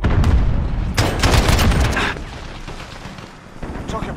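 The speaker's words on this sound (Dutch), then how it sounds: "Een kakshotgun." Gunfire from a shotgun in a first-person shooter, played with mouse and keyboard: dense loud blasts and bursts packed into the first two seconds, then fading to quieter game ambience with a small rise at the end.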